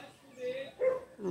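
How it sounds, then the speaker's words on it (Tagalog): Dogs bark near a hillside house facing Mayon Volcano, three short tonal barks spaced evenly over a second or so at moderate distance. "may mga tumatahol na aso"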